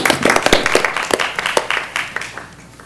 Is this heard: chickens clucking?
no